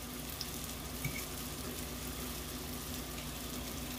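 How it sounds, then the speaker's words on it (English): Fried dumplings cooking in hot oil make a faint, steady sizzle that runs evenly throughout without talk. "you just follow the process until you're done frying everything"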